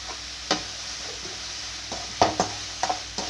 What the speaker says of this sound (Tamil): இதில் வெங்காயம் பாதி அளவுக்கு மேலே வதங்கிருச்சு